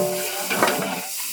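Ginger garlic paste hits hot oil in a pan for goat intestine gravy, giving a steady close sizzle that swells briefly in the middle, with no talking.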